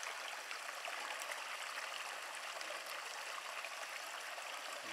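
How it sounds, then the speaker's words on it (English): A small creek running higher than usual after a night of rain, its steady broadband rush and trickle continuous and fairly close, with no voices over it. "So this little creek is flowing a little bit higher than it was the other day"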